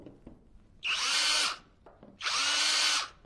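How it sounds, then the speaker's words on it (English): Power drill fitted with a 3/32 bit boring holes into an ROV frame: two loud whirring bursts of about three-quarters of a second each, close by, with a short pause between them and no talking. "3/32 drill bit and drill out those holes."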